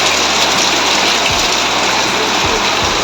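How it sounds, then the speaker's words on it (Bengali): Heavy rain pours down steadily in a dense, loud, unbroken hiss, with faint low thumps beneath it and no voices. "পুরো বৃষ্টি ঝমঝম করে বৃষ্টি হচ্ছে, খুব বৃষ্টি চলছে"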